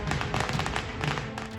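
Diwali fireworks bursting in Delhi, a rapid crackle of sharp pops and thuds packed into a short burst, fairly loud and continuous, with no voices.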